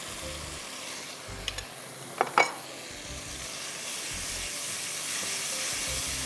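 Yogurt goes into a sizzling pot of Bohri chicken pulao, a couple of sharp clinks and a splashy spurt giving way to a steady, moderate sizzle that builds slightly.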